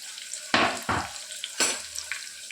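Sliced onions and green chillies fry in a hot pan for a cluster beans mutton curry, a steady sizzle broken by three louder bursts of stirring and scraping, close and with no talk.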